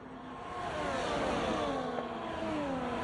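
Racing car engines roar in an online Formula-style racing video game as Williams cars run close together, a loud sustained whine with rising and falling pitch, several cars overlapping with no voices.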